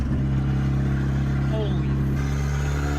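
Nissan KA24E engine idling with a steady low hum and even harmonic drone, continuous throughout, while people talk briefly over it.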